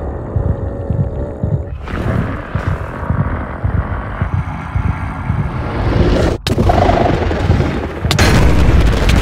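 Deep, booming, throbbing rumbles of the warden in Minecraft fill the space loudly and continuously, with a sharp break partway through and heavy low-end pulsing throughout.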